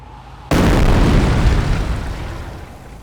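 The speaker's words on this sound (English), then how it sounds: "Order the mortar half-track to fire an incendiary barrage at the enemy infantry squad" An incendiary mortar barrage from a half-track in Company of Heroes bursts suddenly into a loud, close explosion, followed by a long rumbling, crackling roar that slowly fades without any speech.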